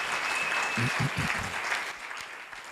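A church congregation claps together during a sermon on Jesus Christ. Dense, fairly loud applause fills most of the moment, with a brief voice rising partway through before the clapping thins and fades.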